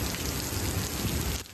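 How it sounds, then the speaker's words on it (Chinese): Heavy rainstorm pouring down in the desert city of Las Vegas, a dense, steady roar of rain on surfaces, loud and continuous without a break, easing slightly at the very end. "突然下起暴雨"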